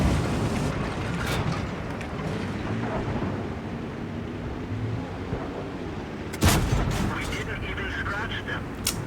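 A tank cannon fires in World of Tanks, with a sharp booming shot near the end over continuous engine rumble and battle noise, while a player talks under it.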